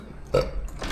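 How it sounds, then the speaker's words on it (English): A man lets out a single short burp, a brief low guttural gulp heard up close and alone. "I'm gonna burp."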